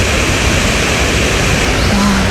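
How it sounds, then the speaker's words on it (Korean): Guseong Falls on Obongsan mountain sends rushing water down in a loud, steady roar that fills the whole moment, close and unbroken, with no voices heard. "이거 구성폭포만 보고 가도 되게 좋겠다"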